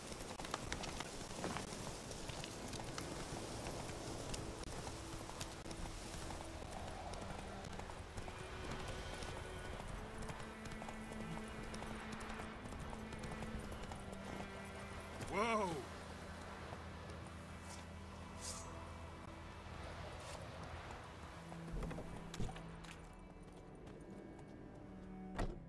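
Roach, Geralt's horse in The Witcher 3, clip-clops steadily at a gallop under game music and ambience. A voice speaks over the hoofbeats.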